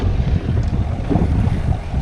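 Strong wind buffets the microphone in a constant low roar during bass fishing, with gusts swelling and easing over a watery, open-air background.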